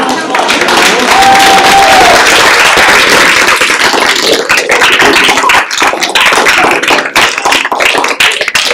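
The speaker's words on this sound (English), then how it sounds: "let's have a huge round of applause" An audience at a youth apprenticeship signing day event gives loud, sustained applause, dense clapping that holds strong before thinning into scattered claps near the end.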